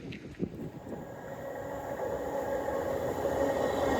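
A train runs along the seawall at Dawlish, a rumbling roll of wheels and carriages that swells and grows louder and closer over a few seconds, with no talk.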